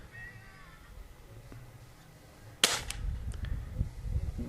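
A Black Hawk air rifle fires a single shot at a 40-metre target outdoors, one sharp crack over a quiet background, followed by a low rumble of wind and handling noise.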